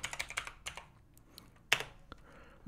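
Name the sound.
typing on a computer keyboard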